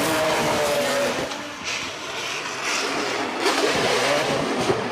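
Drift cars in a Formula Drift Japan tandem run, Hokuto Matsuyama's GR86 chasing Daigo Saito, with a loud continuous engine roar and tire noise that swells and dips as the cars pass along the wall.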